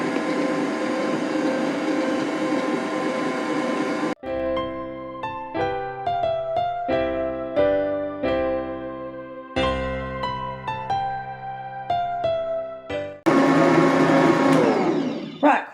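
Electric mixer beats German chocolate cake batter, a loud steady whir that cuts off, then stretches of knocking and clinking against the bowl before the motor roars back on.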